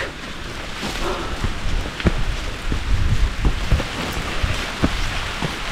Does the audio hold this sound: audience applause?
no